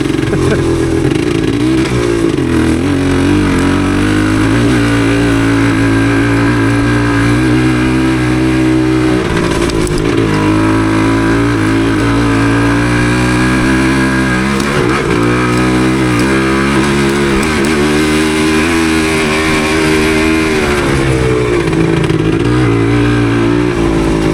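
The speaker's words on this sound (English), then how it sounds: "Exhaust note." A 1977 Yamaha DT250 motorcycle's exhaust drones loudly and continuously, rising and falling in pitch as the engine revs, close up with wind noise throughout.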